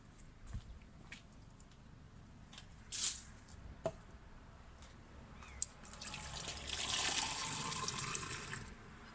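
Water runs through a flow sensor on a test rig wired to a Raspberry Pi, starting as faint trickles and small splashes, then building into a steadier rushing pour toward the end, fairly quiet and close.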